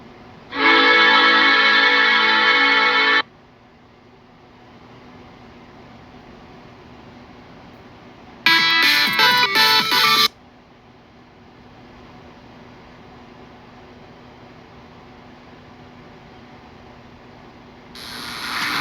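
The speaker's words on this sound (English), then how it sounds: "NASA has just released a mind-bending audio recording that captures the sound waves emitted by a massive black hole." A NASA sonification of sound waves from a massive black hole plays as eerie bursts of dense, shimmering tone: a long opening swell, a second wavering burst later and a third rising at the end, with quiet hiss between.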